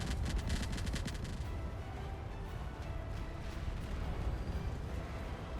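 A battlecruiser fight in Space Engineers fills the air with rapid PDC gunfire, a dense burst of rattling shots at first, then a continuous rumble of distant fire and explosions.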